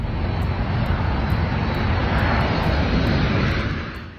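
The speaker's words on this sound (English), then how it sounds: "an aircraft carrying U.S. weapons landed at the Nevadim Air Base in southern Israel." A military aircraft carrying US weapons lands at Nevatim Air Base in southern Israel, with a loud, steady engine roar that holds strong throughout before easing slightly at the end.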